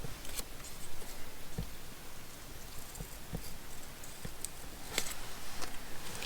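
Small scissors snip carefully around a paper nasturtium seedling cut-out, giving quiet, irregular close clicks and snips over a soft background hiss.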